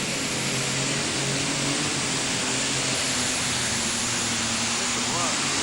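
Super stock light pulling tractor engine held at full throttle, a loud, steady roar close up with a commentator talking over it.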